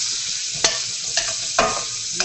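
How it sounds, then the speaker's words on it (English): Onions and tomatoes sizzle in a pot on the stove, a close steady frying hiss broken by a few sharp scraping stirs, no talking. "And I like that sizzle."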